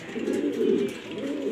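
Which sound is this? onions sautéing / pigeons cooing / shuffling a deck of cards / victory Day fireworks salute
pigeons cooing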